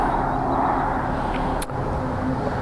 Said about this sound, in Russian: сейчас машина проедет, тут придется говорить под звук машин